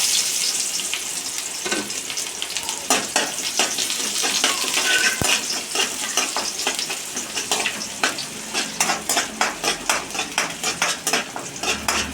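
Mustard seeds, onion and curry leaves fry in hot oil for a Kerala-style thoran, a steady close sizzle broken by sharp crackles and pops that grow denser toward the end, with occasional utensil clinks and no talk.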